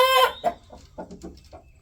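Rhode Island and Marans cross chickens, hens and roosters together, clucking nearby in a farm yard: one loud drawn-out squawk opens, followed by a run of short, softer clucks.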